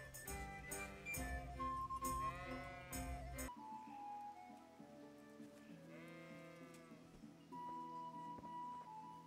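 Sheep bleat repeatedly at a sheepfold in Kingdom Come: Deliverance, the wavering calls loud and close at first, then softer and more distant against a steady ambient bed.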